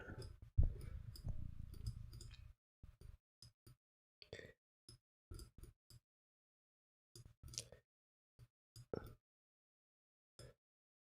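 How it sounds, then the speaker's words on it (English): A computer mouse clicks quietly and irregularly, in scattered single clicks and short pairs separated by pauses, after a brief rustle of handling noise at the start. "I had somebody the other day complaining about the sound of my mouse clicking."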